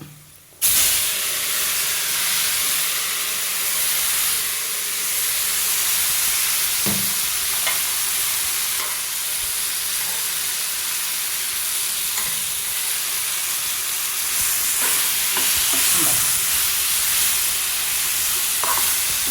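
Jackfruit seeds tossed into a hot pan fry with a steady, loud sizzle and hiss, with occasional scraping clicks from stirring, close and continuous with no talk.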